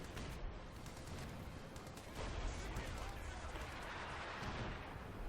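Artillery bombardment in the video game Company of Heroes 2, a faint but continuous rumble of distant explosions and gunfire blending into a dense wash with repeated blasts.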